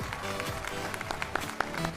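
Audience applause fills an Emmy awards ceremony hall, a steady patter of many hands clapping at moderate distance, with no one speaking over it.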